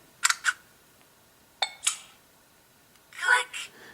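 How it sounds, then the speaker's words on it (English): Standard shutter sound of an LG Lucid phone camera, a crisp electronic double click repeated twice close up in a quiet room, followed by a longer, softer burst. "you can change the shutter noise, so let's take a listen. This is standard."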